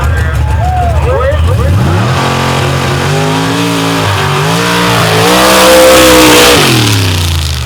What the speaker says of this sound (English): Big 700 plus cubic inch John Conkle Chevrolet power plant rolls into stage with Randy George behind the wheel.